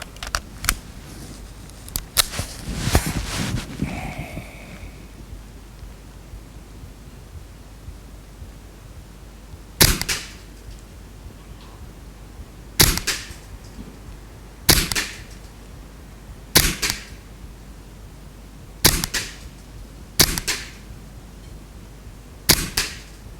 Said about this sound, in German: Machen wir nun die zweiten 10 Schuss.